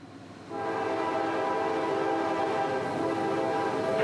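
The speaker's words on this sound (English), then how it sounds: "train B433 would approach, led by another rebuild, number 7276, in charge of this one" A CSX freight train, B433, led by rebuilt locomotive 7276 heading southbound, blasts a loud, steady, multi-tone horn that begins after a quiet moment and holds unbroken to the end.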